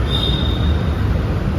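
Metro train at Jnanabharathi station in Bangalore, a loud steady rumble of wheels and machinery with a thin high whine running through it, no speech.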